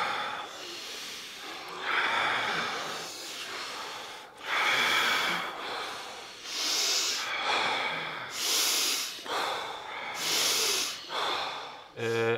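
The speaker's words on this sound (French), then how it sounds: "je trouve super intéressante la respiration Wim Hof. Elle est très simple. T'inspires. Power breathing. T'expires." Forceful Wim Hof power breathing at a glacier, with repeated loud rushing inhales and exhales in an uneven rhythm, close to the listener.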